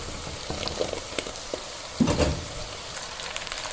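Chopped okra goes into softened, translucent onions in a hot frying pan for dhaba-style bhindi. A steady close sizzle swells briefly as the okra lands, with no voices over it.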